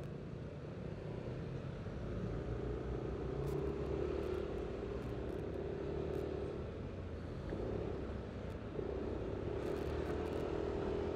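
Traffic rumbles in a jam caused by a stalled truck, heard on a motorcycle ride as a steady low engine and road drone with faint passing vehicles, no talk.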